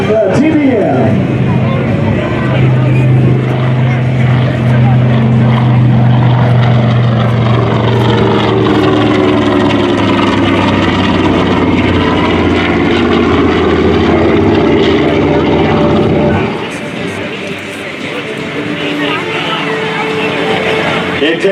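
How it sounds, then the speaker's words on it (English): A TBM Avenger World War II torpedo bomber nicknamed "Doris Mae" drones past at an airshow, its loud radial-engine and propeller roar swelling and sliding in pitch as it passes, then fading; crowd murmur and a commentator's voice sit underneath. "Here she comes from your right, the TBM."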